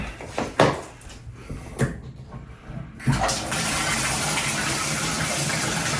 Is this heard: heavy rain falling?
no